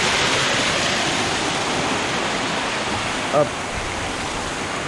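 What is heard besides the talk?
water flowing from an infinity pool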